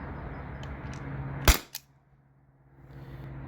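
A T4E HDP50 Gen2 pistol fires one sharp, loud crack followed a moment later by a smaller click, set against a low indoor hum, with no talk.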